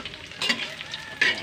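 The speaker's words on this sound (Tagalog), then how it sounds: "Pula-pulahin natin ng konti yung pagkaprito" Sweet and sour fish balls (bola bola) frying in oil, a steady close sizzle with stirring and scraping, swelling louder in a couple of bursts.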